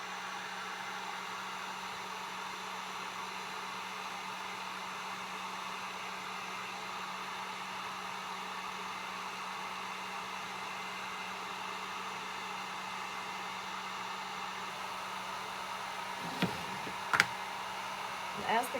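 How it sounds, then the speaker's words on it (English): A steady blowing, whirring hum from a heat gun on its low setting runs continuously at moderate level, with a couple of brief knocks near the end. "So I'm going to turn on the heat gun."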